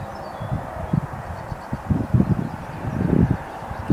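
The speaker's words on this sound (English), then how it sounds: "The wind's starting to come up a little bit" Gusty outdoor wind rising and buffeting a microphone beside a telescope screen, with low rumbling bursts that swell and fade irregularly and grow stronger toward the end, no voices.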